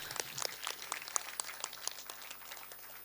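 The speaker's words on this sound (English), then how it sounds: "Let us welcome him with a hearty clap." Scattered applause from a graduation audience welcoming the chief guest at a polytechnic ceremony, sparse claps at a moderate distance, thinning out over a few seconds.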